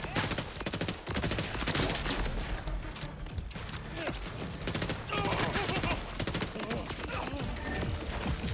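Rapid sustained gunfire from a corrosive weapon in the video game Borderlands 4, a loud dense stream of shots with scattered impacts running continuously throughout.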